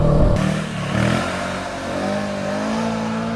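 A motorcycle with luggage cases revs hard while wheeling. A loud, close engine roar rises in pitch, then settles into a sustained drone. No talking.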